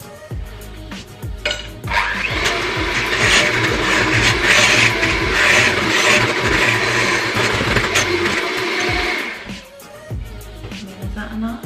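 An electric mixer beating eggs for a carrot cake whirs loudly and steadily for several seconds, its motor drone holding an even pitch before cutting off, with a few clatters around the start and the end.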